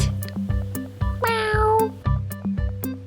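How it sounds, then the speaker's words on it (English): A single drawn-out cat meow rises and falls in the middle, set against a regular clicking, ticking rhythm from a toy. "It's a cat."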